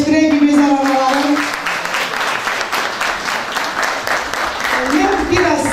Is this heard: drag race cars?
no